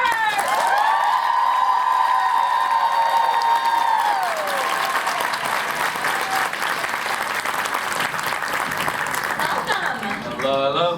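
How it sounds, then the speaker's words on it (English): A convention crowd at a Q&A applauds and cheers for guest James Marsters, with loud continuous clapping, whoops and shouts swelling after a voice speaking over the opening, then tapering near the end. "Let's give the biggest applause for our guest,"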